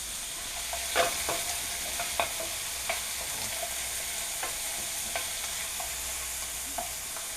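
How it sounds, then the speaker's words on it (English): Onions frying in oil for a chutney, a steady soft sizzle with scattered light scrapes and taps of stirring, fairly quiet and without talk. "We're gonna throw some onions in there."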